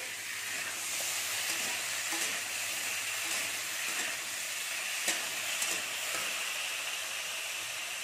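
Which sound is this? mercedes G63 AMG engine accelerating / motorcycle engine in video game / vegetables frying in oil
vegetables frying in oil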